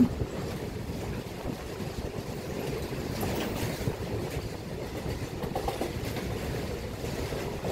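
A train rattles steadily along the tracks, a continuous rumbling clatter that stays even throughout with no voices.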